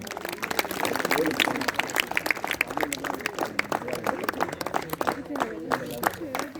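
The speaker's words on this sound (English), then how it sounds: "Let's clap for the runner-up team." An audience at an inter-school sports felicitation ceremony applauds the runner-up cricket team, a continuous crackle of many hands at moderate distance that sways in loudness, with voices mixed in.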